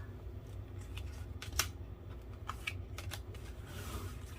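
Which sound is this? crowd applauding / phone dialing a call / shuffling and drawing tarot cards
shuffling and drawing tarot cards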